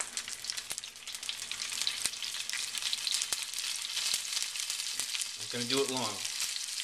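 Tuna steaks sear in a hot pan with a little sesame oil, a steady close sizzle and crackle running throughout, with a brief burst of speech near the end.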